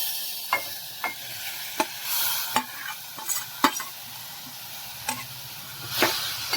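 Grated green papaya fries in a spiced tempering of green chillies, asafoetida and turmeric, a soft steady sizzle broken by sharp scrapes and taps of a spoon stirring at irregular intervals, close and without speech.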